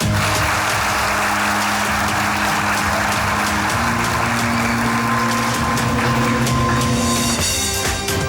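A studio audience at a comedy show ceremony applauds continuously for the whole stretch, a dense loud wash of clapping with faint steady tones running underneath.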